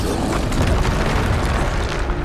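The Bombarda spell in Hogwarts Legacy explodes as a loud, dense, continuous booming roar. It fills the whole stretch with no talk.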